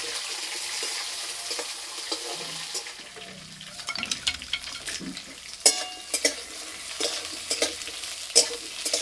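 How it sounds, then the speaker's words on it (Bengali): Papaya pieces lightly frying in a pan with a soft background sizzle, overlaid by repeated clatters and scrapes of a spatula turning them, growing busier in the second half; close by. "পেঁপেটা হালকা করে একটু ভেজে নেব"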